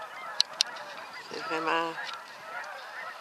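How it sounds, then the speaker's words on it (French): Canada geese honk loudly nearby on a spring morning, a burst of harsh nasal calls from many birds in the middle, with a brief spoken phrase and a couple of sharp clicks before. "Ça jacasse fort encore un matin. C'est tout plein d'outardes qui se promènent."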